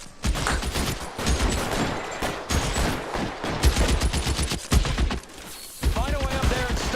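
A chaotic LA Noire shootout fills the air with rapid, close gunshots in tight volleys and scattered single cracks, with short pauses between bursts and a voice speaking briefly near the end.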